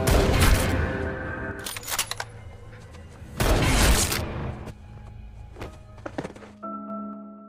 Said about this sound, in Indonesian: Jody langsung menembak psikopat itu sampai ia